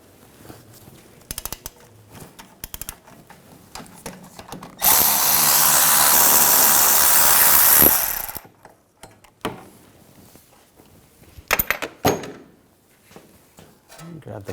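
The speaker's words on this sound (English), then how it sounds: "Now using a E18 socket, we're going to take these bolts out." Impact or air tool with an E18 socket spinning out caliper bracket bolts on a 2007-2013 BMW X5 rear brake, one loud sustained burst of about three seconds between scattered clicks and clanks.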